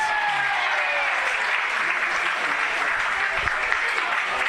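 Crowd noise at a women's Division 1 football grand final, Nightcliff Tigers against Tracy Village, a dense steady wash of cheering and clapping that fills the whole stretch at an even, loud level.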